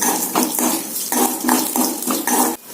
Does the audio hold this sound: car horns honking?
no